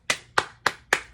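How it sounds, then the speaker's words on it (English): Four sharp hand claps in a steady, evenly spaced rhythm, close and fairly crisp, from a small group or a single person, with no talk over them. "let's clap for Brett."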